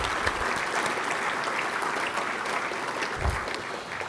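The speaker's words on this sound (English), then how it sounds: "So can we give them an applause, please, Dr. Johnson and Ms. McDonald?" An audience at a keynote event claps in sustained, steady applause lasting several seconds, heard from within the hall at moderate level, with no talking over it.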